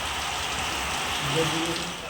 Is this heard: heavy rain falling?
yes